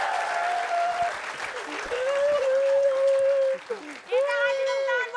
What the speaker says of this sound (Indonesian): Kita kasih tepuk tangan buat Bang Mali